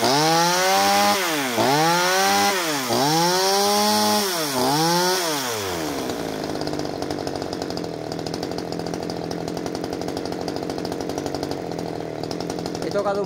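A pruning chainsaw engine revs in surging, rising-and-falling bursts and then bogs down into a rough, sputtering drone. It is close and loud, with a possible carburetor fault.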